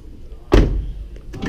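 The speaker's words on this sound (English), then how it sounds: "Just grab a handle and the doors close." A 2017 Chrysler Pacifica Touring-L power sliding door closes with a single firm thud, followed by a faint rattle and a light click, heard alone and close.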